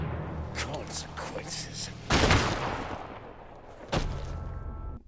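Gunshots from the action film John Wick: Chapter 4 playing during a viewing, with two loud, sharp blasts about two seconds apart over a busy soundtrack, and a brief spoken line heard in the scene.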